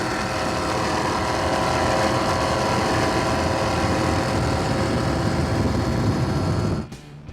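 A 1993 38-foot Scarab powerboat with twin Bulldog 540 engines roars loudly and steadily at speed on open water, a continuous heavy engine drone that cuts off abruptly near the end.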